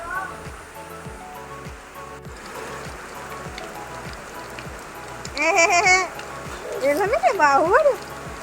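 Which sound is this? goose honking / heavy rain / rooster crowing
heavy rain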